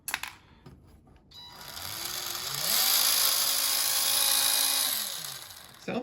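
A 2002 XTM Baja Bullet RC truck motor with brass pinion gears spins up with a smooth rising whine, holds a steady high pitch for a few seconds, then winds down, close and alone.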